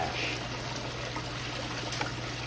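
Water washing over material while panning for gold, a steady soft trickling and rushing flow that stays even throughout, fairly faint and close, with no voices.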